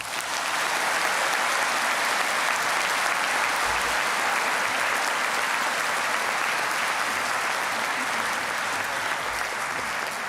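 Applause fills a hall at a medical school white coat ceremony as the class of 2027 is honored, a loud, unbroken roar of many hands clapping steadily throughout.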